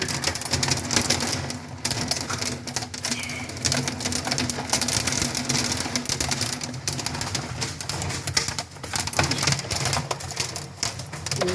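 Hail and heavy rain come down hard during a storm in Fort Stockton, Texas, making a dense, continuous close-up patter that stays loud throughout.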